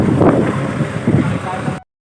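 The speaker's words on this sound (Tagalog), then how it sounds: "At eto na nga kami sa bangka." Small boat pushing through rough, choppy water off Cavite in strong wind, loud wind buffeting the microphone with surging, splashing water in uneven bursts until the sound cuts off abruptly.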